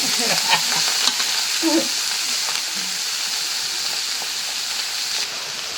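Fresh pea greens hit a hot pan and sizzle loudly, a sharp burst of frying that settles into a steady hiss, with faint voice and stirring early on.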